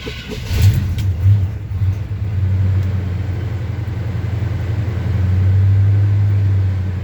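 A 1975 Chevy C10 truck, long parked, idles loud and close after starting, a steady low rumble that swells slightly as the revs rise, with no talking.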